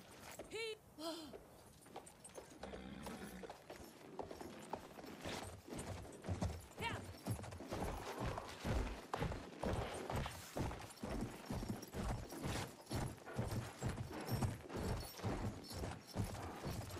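Rhythmic hoofbeats clip-clopping steadily at a trot in Battlefield 1, with mechanical clanks and a brief whinny early on, game-like and moderately loud.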